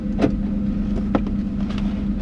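Exhaust of a 2001 Ford Mustang Bullitt GT with its electric exhaust cutouts closed, a steady low muffled engine drone heard from inside the car with windows down, broken by a few faint thumps and clicks.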